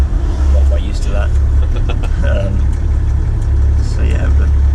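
A Land Rover Defender fitted with a BMW X5 engine drives along, its steady low engine drone filling the cabin throughout while someone talks over it.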